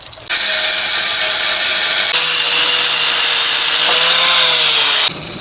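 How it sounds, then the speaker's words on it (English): A loud, steady power tool whine grinds through a piece of metal while a valve stem seal removal tool is being modified. The tone holds close and continuous for about five seconds, then cuts off. "Actually, we can cut that piece off too."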